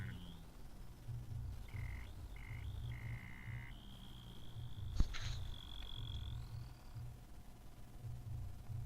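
Faint electronic whining tones from a Bedini motor shift pitch and wobble over a low rumbling hum, with a sharp click midway and a quiet high whirr.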